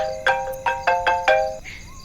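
A phone rings with an electronic chirping tone, five short bright bursts in quick succession, then a brief rising tone, loud and close.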